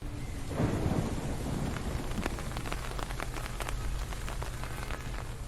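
Steady rain with a deep rumble of thunder swelling early on, used as a storm sound effect behind a manhwa story narration; constant and fairly loud with scattered sharp drops, no voices.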